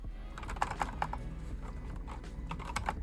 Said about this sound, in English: listen to what the key clicking sounds like here